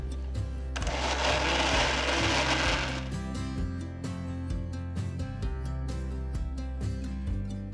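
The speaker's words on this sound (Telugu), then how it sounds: "ఇప్పుడు 1 టీ స్పూన్ అంత నీళ్లు వేసి మళ్ళీ రుబ్బాలి." A wet grinder works lentil batter for vada after a spoonful of water is added, giving a loud gritty whir at first, then a steady humming motor with regular knocks and clicks.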